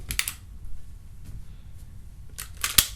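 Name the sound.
Marlin Golden 39A lever-action .22 rifle bolt being operated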